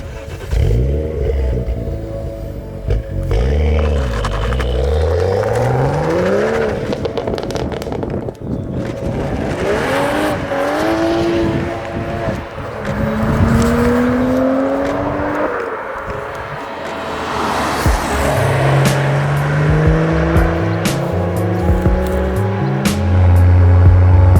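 BMW M135i fitted with a Remus exhaust and HJS catalytic converter, heard driving with steady engine drone, rising and falling revs through gear changes, loud and close throughout.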